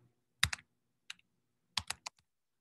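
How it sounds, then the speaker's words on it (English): Computer keyboard typed on in irregular short bursts during a math class session, a few quick clusters of close, crisp key clicks separated by pauses, with no talking. "I can't type too fast on the keyboard."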